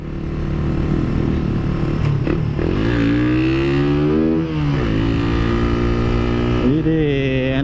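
A Suzuki Satria FU motorcycle accelerates hard, its engine loud and close as the revs climb through rising pitch sweeps, ease off briefly, then pull up again, all under steady wind rush.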